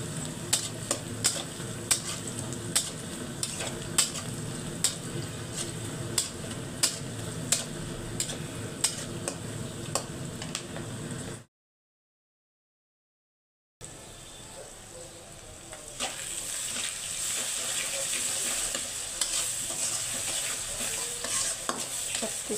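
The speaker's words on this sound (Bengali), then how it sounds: "মশলা কষিয়ে নিচ্ছি।" Beans, potato, eggplant and tomato with spices sizzle in a frying pan, with a run of spoon clicks as they are stirred, a brief silence, then steadier frying without voices.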